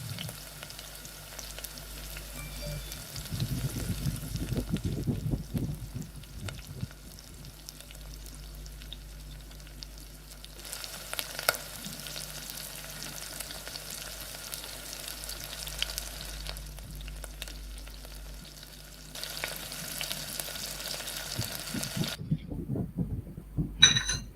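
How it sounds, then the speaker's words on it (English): Dumplings frying in oil and water in a pan during a winter solstice meal with Chinese Muslims, a steady sizzle running throughout, louder in bursts, with voices talking over it at times. "Frying the dumpling."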